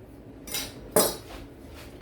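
A kitchen knife is drawn along a honing steel in two quick metallic swipes, the second sharper and ringing, close by in a quiet kitchen.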